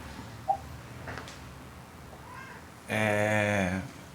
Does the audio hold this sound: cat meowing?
yes